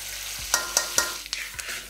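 Whole spices, bay leaves, cloves, cardamom and cinnamon, and black cumin frying in mustard oil, a soft sizzle under a series of sharp scraping clinks as a spoon stirs the pan, close.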